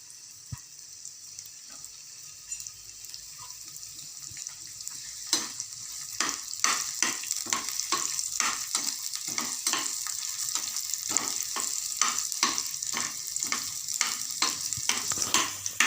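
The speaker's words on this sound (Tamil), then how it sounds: "இஞ்சி பூண்டு விழுதை முதல்ல வதக்கிக்கணும்" Ginger garlic paste sautéing in a pan for mango chutney, a steady sizzle with repeated scraping stir strokes building in rhythm through the second half, close and moderately loud with no talk.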